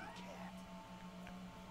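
A cat meows in the video game A Way Out, a couple of short meows over a faint steady hum, with a voice speaking nearby.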